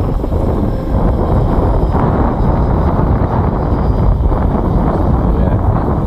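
Wind buffets the microphone at a model-aircraft flying field, a constant close low rumble with no pauses.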